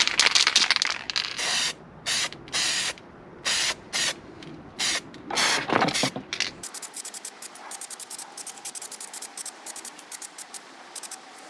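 Aerosol can spraying 1K filler primer paint on a Honda CX500 motorcycle part, a series of short hissing bursts followed by one long continuous spray, close and without talk.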